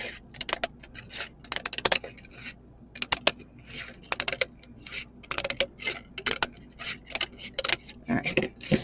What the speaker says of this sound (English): So you're just going to take your scissors